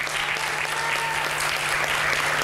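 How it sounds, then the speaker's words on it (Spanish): A church congregation gives the choir a hearty round of applause, dense steady clapping filling the room at close range without a break for its whole length. "denle un fuerte aplauso al coro, hermano"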